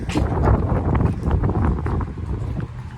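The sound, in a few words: wind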